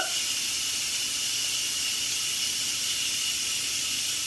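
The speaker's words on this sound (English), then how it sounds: "It's a lot of steam. I got a little steam squirt." Instant Pot pressure cooker venting through its steam release valve, a loud, steady, close hiss that runs unbroken throughout with no talking.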